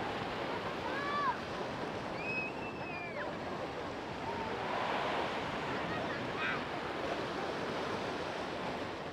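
Steady surf at Doi Duong beach in Phan Thiet, Vietnam, washing in as continuous broadband roar with wind buffeting the microphone and a few brief high chirps over it.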